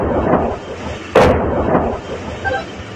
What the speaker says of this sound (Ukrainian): Вогні, вибухи настільки потужні, що здригається земля під ногами